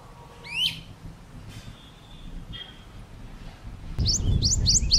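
Small birds such as swallows, flycatchers and warblers give a few scattered high chirps, then a quick run of four sharp repeated calls near the end over a low background rumble.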